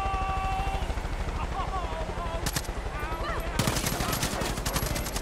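Rapid automatic gunfire in the Far Cry 5 video game, a continuous rattling stream of shots with a sharper, louder burst near the end, while voices talk faintly underneath.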